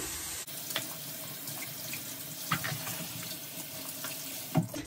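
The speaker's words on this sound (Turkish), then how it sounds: "Son bir kere musluktan şöyle tutacağım." Tap water runs steadily into a sink while combs and brushes are rinsed under the faucet, a constant close hiss with occasional soft knocks and splashes from the items being handled.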